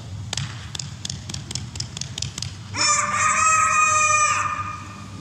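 A voice imitates a rooster crowing during a children's storytelling lesson. A quick run of tapping knocks comes first, then one long crow rises and holds loud and near.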